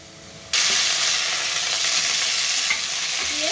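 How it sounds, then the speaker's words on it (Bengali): Okra and potato pieces drop into a pan of onion and green chilli and burst into a loud, continuous hissing sizzle after a brief quiet start. Faint stirring clatter runs underneath, close up, with no voices. "কিছুক্ষণ ভেজে নেব"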